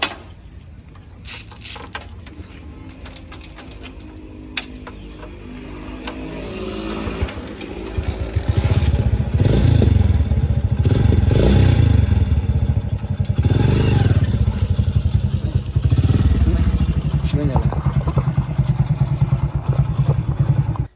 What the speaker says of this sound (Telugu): మీకు వన్స్ ఒకసారి నేను వెహికల్ స్టార్ట్ చేసి చూపిస్తాను.